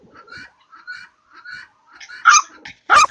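Domestic ducks quacking and chattering close by, a string of short soft calls followed by two louder bursts of quacks.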